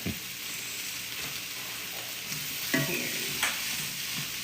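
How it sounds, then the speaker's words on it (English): Birria beef sizzles in a pan while being stirred, a steady close hiss broken by a couple of scraping, clattering strokes of a utensil around the middle, with no talking. "Let me give it a mix."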